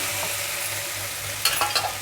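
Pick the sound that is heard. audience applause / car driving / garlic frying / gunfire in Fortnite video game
garlic frying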